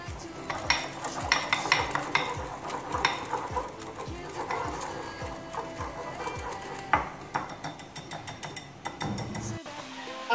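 Spice paste of garam masala and crushed red chilli being stirred for Lahori boneless tawa chicken: repeated scraping and clinking of a spoon against a bowl in quick rhythmic strokes, close and fairly quiet.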